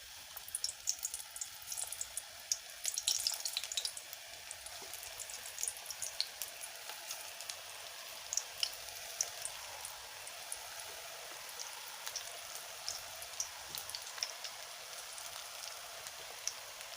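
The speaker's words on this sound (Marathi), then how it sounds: "आपलं तेल पण गरम झालेलं आहे आपण यात छोटी छोटी भजी टाकून घेऊया" Small spinach pakoda fritters frying in hot oil: a fine, steady sizzle with scattered crackles and pops, fairly quiet and close, with no talk over it.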